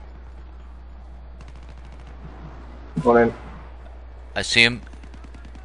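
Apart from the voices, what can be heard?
gunfire in the video game Battlefield 3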